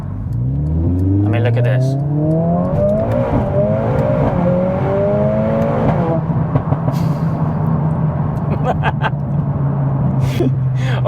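A Mercedes-AMG A45 S accelerates hard on back roads, its engine note climbing through the gears with rising pitch and a brief shift dip before holding steady, loud and close, while someone talks over it.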